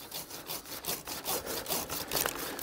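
Hand saw cutting through a branch of an old fruit tree, a steady back-and-forth rasp of close, rhythmic strokes that slow and turn careful near the end of the cut.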